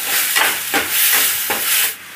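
Ground coriander, cumin, black pepper and deghi chilli powder stirred into hot oil for an arbi leaf curry, giving a steady close sizzle and hiss with a few soft scraping stirs, no talking.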